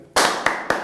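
Sharp hand claps standing in for a film clapperboard slate for the camera, three crisp close strikes in quick succession, the first and loudest followed by two slightly softer ones.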